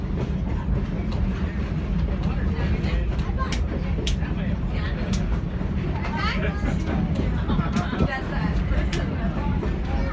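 Passenger train car in motion with a steady low rumble and rhythmic rail clatter, loud and continuous, while passengers talk on board in the background.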